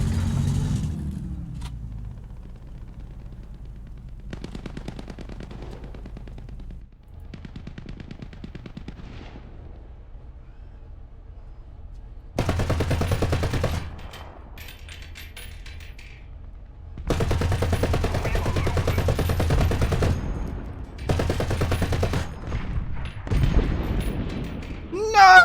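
Repeated bursts of machine gun fire in a ships video game, loud clusters of rapid shots separated by quieter gaps, some booming, with a voice talking between them.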